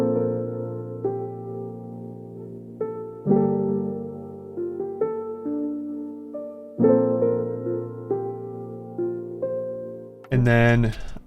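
Dark melodic piano sample with the low end EQ'd out and harsh highs cut, drenched in reverb with gross beat and gate effects; sustained chords shift every few seconds, ending in a brief choppy gated stutter, no voices.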